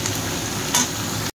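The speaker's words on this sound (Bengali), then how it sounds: "আমি 5 থেকে 7 মিনিট কিন্তু পেঁয়াজ আর লঙ্কার সাথে বেগুন আলুটা ভেজে নেব" Potato and eggplant pieces frying in a pan with onion and green chilli, a steady close sizzle with a brief stir or scrape near the middle, then a sudden cut.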